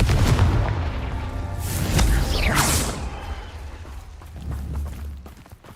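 Confringo explosion spells in Hogwarts Legacy boom and crackle in heavy bursts, with a whooshing sweep near the middle, then fade to softer rumbling and scattered impacts.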